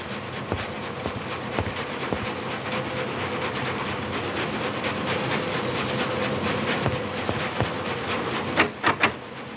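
Steady rumble and rattle of a train running aboard the Orient Express in a mystery adventure game, a continuous mid-level drone with faint clicks and a few sharp clanks near the end.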